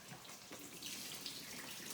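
Tap water running into a sink to rinse drained cabbage in a home kitchen, a steady soft hiss of flowing water with a few splashy bursts, faint and continuous throughout.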